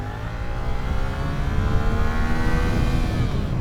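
A 2025 Suzuki GSX-8S motorcycle accelerates hard in first gear toward redline, its engine note climbing steadily in pitch, loud and close over rushing wind noise.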